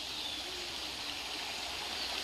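Spring water flows steadily from a pipe connection in a dense forest, a continuous hissing rush with a faint bird call behind it.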